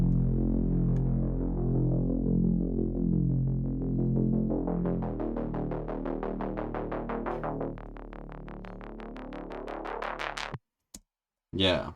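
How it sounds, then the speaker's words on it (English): Drum and bass bassline with a pulsing, throbbing synth tone, progressively thinned by a high-pass auto filter so the low end drains away and the sound grows brighter and buzzier before cutting off abruptly, followed by brief clicks. "I'm also going to start filtering up using a high pass filter, like an auto filter, that bass"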